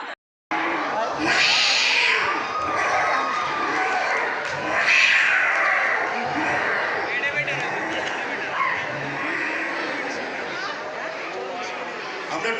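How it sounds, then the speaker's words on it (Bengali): Cats fighting let out continuous, loud yowling and caterwauling, with harsh screeches and growls overlapping for more than ten seconds. There are no pauses in the noise. "বিড়ালের ঝগড়া যখন তুমুলে"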